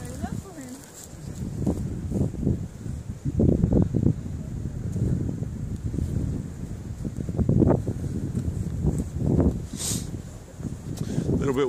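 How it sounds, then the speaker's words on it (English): Gusty late-autumn wind buffets the microphone in rumbling low bursts atop the Quedlinburg watchtower, with people talking intermittently underneath. "A bit windy up top."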